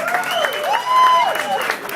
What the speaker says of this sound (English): How about a big round of applause for Chris over there?